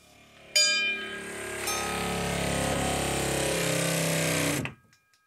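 A water pump kicks on with a sharp start and runs as a steady, loud mechanical whine and hum for about four seconds before cutting off abruptly.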